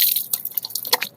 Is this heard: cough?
no